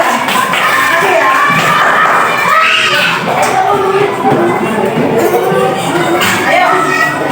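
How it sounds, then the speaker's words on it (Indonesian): An Indonesian classroom bursts into applause and cheering for group 3: dense clapping and children's shouts fill the room, loud and close, with a few thumps and voices mixed in. "Kalau kita berikan aplaus"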